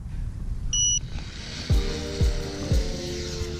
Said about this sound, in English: it's still beeping, letting me know that I'm at a low voltage on the battery